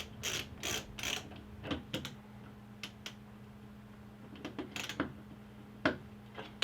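Screws are driven by hand into a Yale YRD220 touchscreen deadbolt lock, heard as close, quiet clusters of ratcheting clicks and ticks with short pauses between turns, no talking.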